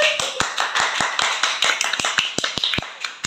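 A group of people claps at a cake-cutting celebration, with sharp, fairly loud claps in a steady, slightly uneven rhythm that stay clear throughout.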